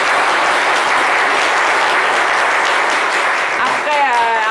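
A studio audience breaks into loud, sustained applause during a French-language broadcast, dense clapping filling the whole stretch, with a voice starting to speak over it at the end.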